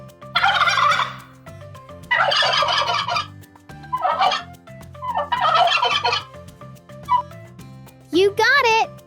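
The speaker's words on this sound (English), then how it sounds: "They make a gobble-gobble sound and are often seen on farms or in forests." Several loud, close turkey gobbles come in rapid warbling bursts, one after another with brief gaps, ending in a higher wavering call, and no one speaks over them.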